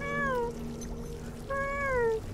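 A house cat gives two clear, drawn-out meows with a pause between, close and fairly loud over a low background hum.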